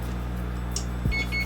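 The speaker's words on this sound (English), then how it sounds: "That's my oven, which we like to hear." Kitchen oven gives a few short electronic beeps, thin and high, over a steady low hum of room noise, with the tones arriving near the end of a quiet stretch.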